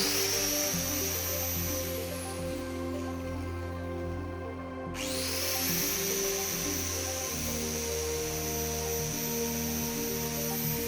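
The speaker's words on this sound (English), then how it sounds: "We're also now going to plug in this 800-watt angle grinder." An 800-watt angle grinder runs on generator power with a continuous high-pitched whine over a steady engine hum; the whine drops away briefly midway, then spins back up and holds.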